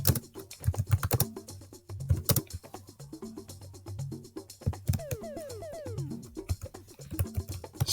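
Fingers type steadily on a computer keyboard in close, clicky bursts of keystrokes with brief pauses, entering text in different scripts and languages.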